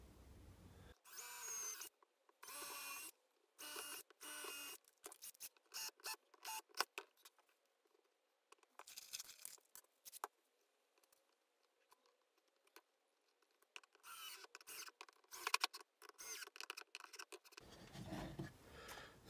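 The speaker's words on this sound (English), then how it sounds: "I'm just going to stick a couple of screws in." Screws, 3.5mm, are driven into pallet wood for a corner shelf, with a power drill whirring in several short bursts and pauses between them, close up and alone with no talk.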